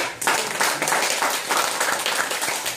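Audience at a company lecture at a Busan branch office breaking into warm applause, dense steady clapping from many hands close by, with no talk over it.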